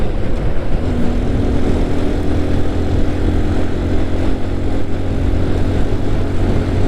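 A motorcycle engine drones loud and close as the rider slows on a road, a steady continuous roar with wind noise and no speech over it.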